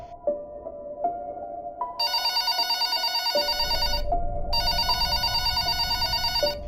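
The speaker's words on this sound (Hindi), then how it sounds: "तभी उसे उस रात की पहली कॉल रिसीव हुई।" Telephone ringing as a cartoon sound effect, with a tonal beeping ring followed by two bursts of bright electronic trilling over a low hum, clear and up front with no speech.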